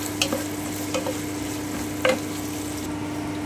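Carrots sizzle in a pan for egg fried rice while a spatula scrapes and taps the pan a few times over the steady frying hiss.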